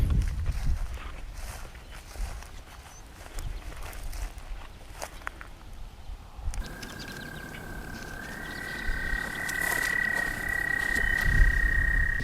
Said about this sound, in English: Tiny, tiny frog makes that loud noise.